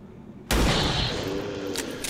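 A single loud rifle shot in XCOM 2: War of the Chosen, aimed at a Stun Lancer, bursting abruptly and ringing out with a long decaying tail, followed by a couple of faint clicks.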